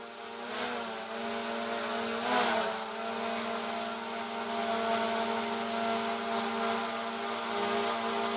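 A DJI Mini 4 Pro drone's propellers spin up after an arm replacement repair, giving a steady, continuous whirring buzz at close range with a slight swell partway through and no talking.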